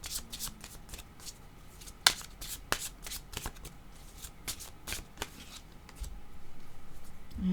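Playing cards being shuffled for a card reading, a run of crisp riffling flicks and taps, close and fairly quiet, with no talking.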